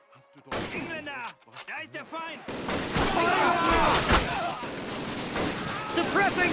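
Suppressing gunfire in the Xbox 360 port of Call of Duty, a WWII shooter: a quiet opening gives way to a sustained, dense barrage of overlapping shots that stays loud and continuous to the end.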